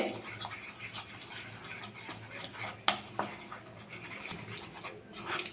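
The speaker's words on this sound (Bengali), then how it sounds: "জল দিয়ে একটা ব্যাটার করে নেবো পাতলা ব্যাটারটা এইভাবে করতে হবে কোনো দানা না থাকে ভালো করে মিশিয়ে নিতে হবে" A thin batter of flour and water is whisked briskly in a bowl for a cauliflower snack, giving a steady close-up wet scraping and clinking with a few sharper knocks against the rim.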